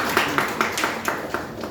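An audience at a religious discourse claps in a steady, fairly even rhythm, about five claps a second, with a murmur of voices underneath.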